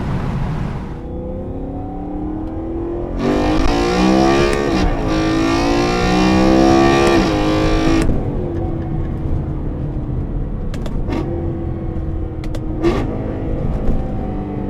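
BMW E93 M3 with an aftermarket transmission mount, engine revving loudly and rising in pitch through acceleration, then easing off with quieter drone and a few sharp pops, heard from inside the car.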